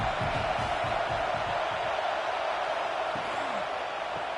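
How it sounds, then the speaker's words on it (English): A college football stadium crowd in a video game, at Florida hosting Arkansas: a continuous, broad roar that stays loud throughout, with no talking. "this crowd is turning it up a notch"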